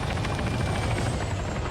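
Helicopter in the Arma 3 video game during a large multiplayer battle, a steady loud rotor drone with dense low thumping and engine whine filling the whole stretch, with no voices.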